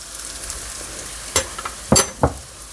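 Scallions and hot chili stir-fry in oil in a pan for a spicy squid dish, a steady close sizzle broken by a few sharp scraping stir strokes near the end.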